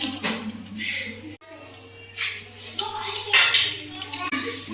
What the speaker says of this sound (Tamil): லைட்டாக கொதி வந்துருச்சு, இப்போ அரிசி போட்டுடலாம்.